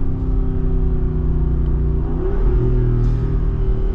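A Jeep Wrangler Rubicon 392 V8 pulls in second gear near 30 mph, a loud deep steady engine drone with a rising pitch shift midway, heard from inside the vehicle.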